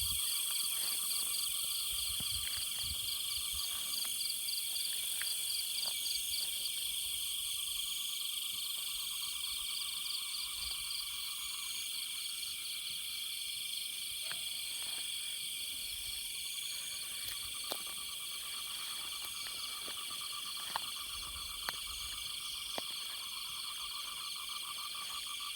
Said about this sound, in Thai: อยู่หลุมเสียงคันคากฮ้อง